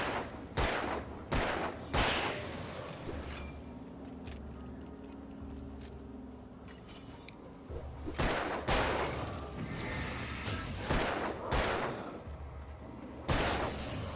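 Gunfire in the video game Alan Wake 2 comes in sharp, loud bursts of repeated shots, clustered at the start and again near the end, with a quieter stretch between.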